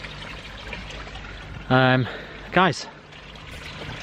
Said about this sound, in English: Just in the middle of doing a filter clean, just topping it up with water now